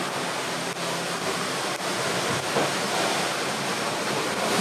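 Ocean waves wash steadily around a Leopard 45 catamaran under way, a dense, continuous rushing surge with no voices.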